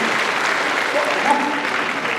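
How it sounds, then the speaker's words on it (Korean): Many hands in a crowd clap for the mayor at a citizens' town hall in Nonsan, a dense and steady wash at full volume, with some voices mixed in beneath it. "저희가 시장님이 소고기를 못 사드려도 큰 박수 한번 다시 드리죠"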